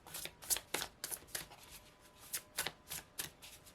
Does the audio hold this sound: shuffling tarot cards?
yes